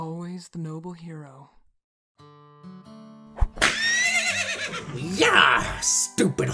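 Horses whinny in an animated fantasy scene with Epona and other ranch horses, a loud neigh rising after a shouted voice, followed by dense, busy activity with more calls and clatter; people speak before the horses cry out.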